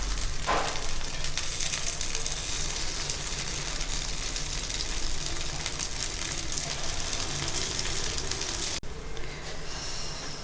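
Ponganalu batter with onion, green chilli and cumin fries over a medium flame in a paddu pan, giving a steady, dense sizzle that runs unbroken close up with no one speaking.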